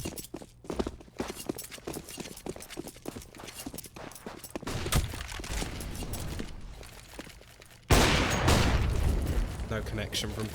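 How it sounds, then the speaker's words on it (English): Gunfire from a Counter-Strike match on the Mirage map at a Hellcase Cup 6 esports game, with rapid bursts and sharp shots among footsteps while a caster's voice talks over the action. "Quick run down from Crizzen, and that's a simple shot for Little."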